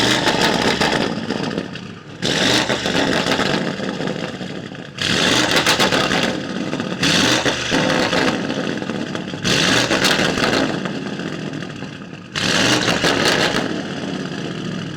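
A Porsche GT2 RS with new downpipes revs hard in a workshop, the loud, close engine repeatedly roaring up in six long pulls with short dips back toward idle between them, and no talking.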